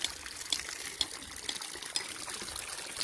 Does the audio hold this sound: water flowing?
yes